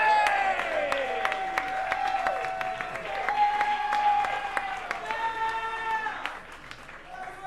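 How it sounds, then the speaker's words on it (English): Audience members at a comedy show applaud a woman turning 40, steady clapping and cheering mixed with background music throughout, with a voice briefly audible. "Everyone give her a round of applause."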